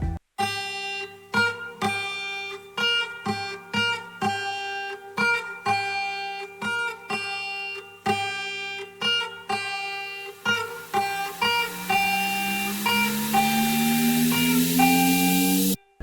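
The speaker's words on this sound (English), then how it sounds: "I had recorded a counter melody for the first melody that I recorded" A recorded guitar counter melody plays solo as a string of separate plucked notes in a steady phrase. It ends on longer held tones that swell and ring out, clean and close with no voices.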